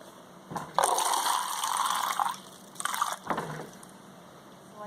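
Bottled water is poured into a cup in two short splashing pours, the first longer than the second, with quiet pauses between them.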